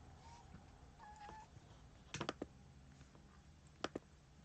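A kitten makes a couple of thin, faint meows early on, then a few soft clicks and taps follow in a quiet room with a low background hum.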